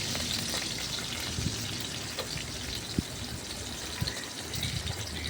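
Onions with dried and green chillies sautéing in a pan, a faint, steady sizzle with a few soft clicks of stirring, no talking.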